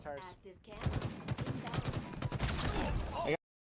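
Rapid volley of stalker rifle shots in the Halo video game, loud and close, firing in quick succession for about three seconds before cutting off abruptly.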